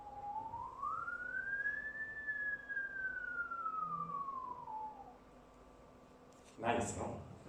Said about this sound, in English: So now I can whistle again.